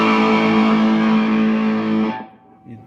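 Distorted electric guitar through an Egnater Rebel 30 amp with the tight switch engaged, a dense sustained chord ringing loud and close for about two seconds before cutting off abruptly, with faint noise after.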